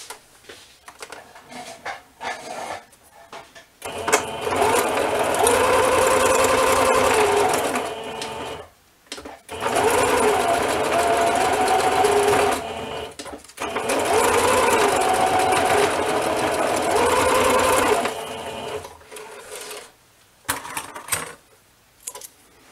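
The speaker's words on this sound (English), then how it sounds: "I will sew this one down on a sewing machine now." A sewing machine stitches down a junk journal page in three long runs of rapid, even mechanical whirring, close and loud, separated by brief pauses with light handling noises.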